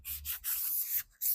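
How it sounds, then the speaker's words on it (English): Hand sanding on wood: repeated rough, raspy strokes in a steady back-and-forth rhythm, close and fairly loud, with a short pause before the last stroke. "as you're sanding, you can feel like where it's kind of rough that you need to sand more"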